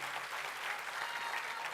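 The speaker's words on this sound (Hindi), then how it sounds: "उनके लिए बहुत जोरदार तालियां होनी चाहिए" Audience at a political event at Indira Bhawan breaks into steady, dense applause, a continuous wash of clapping that holds evenly throughout with no voices on top.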